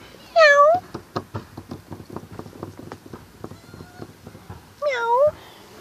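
A cat gives two clear, drawn-out meows, one near the start and one near the end, close to the microphone, with light knocking and tapping sounds in between.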